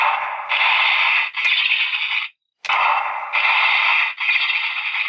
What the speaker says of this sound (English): it makes a whacking sound, and it has kind of a skitter of spider legs there